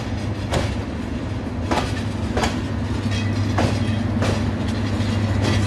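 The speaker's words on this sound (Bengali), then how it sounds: "এই মুহূর্তে একটি ট্রেন স্টেশনকে অতিক্রম করে সামনের দিকে এগিয়ে যাচ্ছে।" A train of roughly ten coaches rolls through Maizgaon railway station in Fenchuganj, Sylhet, with a loud, steady rumble and regular clickety-clack wheel thumps at the rail joints, close by.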